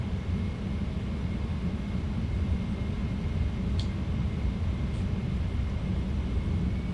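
Simulated Concorde touching down and rolling out on the runway, a steady loud low rumble of engine and wheel roar holding evenly throughout with a couple of faint brief high clicks.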